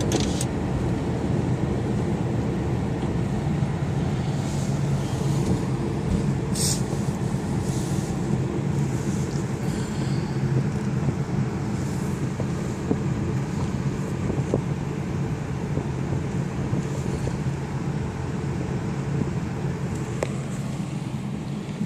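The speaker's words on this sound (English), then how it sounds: "Now I got a car coming." A car on a road rolls closer with a steady, broad rumble of engine and tyre noise, mixed with wind buffeting, continuous for the whole stretch with no voices.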